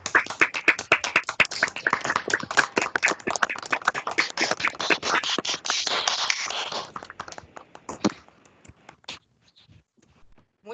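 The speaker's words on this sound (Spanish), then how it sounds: "démosle un aplauso a la maestra y al grupo de Colombia que nos acompaña" Participants in an online class clap for their teacher over their microphones. Brisk, fairly close clapping is dense at first, thins out after about seven seconds, and ends with a few scattered claps before near silence.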